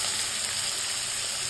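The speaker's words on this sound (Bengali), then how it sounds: "এবার আমি পেঁয়াজটা দিয়ে দিলাম।" Onions added to hot oil already holding dry red chillies, bay leaves, cumin and whole garam masala sizzle in a steady, close, unbroken hiss for a brief moment.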